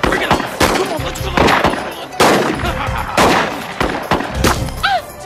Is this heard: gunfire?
yes